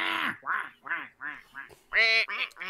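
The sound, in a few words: people imitating duck quacks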